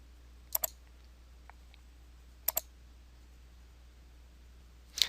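Mouse clicks on OK in Microsoft Excel: three soft paired clicks, spaced about two seconds apart and close to the mic, over a faint steady hum.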